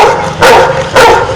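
A man imitates a dog with his voice, giving two loud, close woof-like barks a little over half a second apart.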